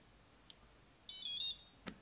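TomCat Skylord electronic speed controller emitting a short burst of rapid tonal beeps after a battery is connected for throttle calibration, with single faint clicks before and after, otherwise quiet.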